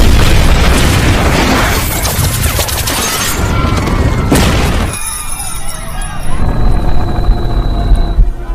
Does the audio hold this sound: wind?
no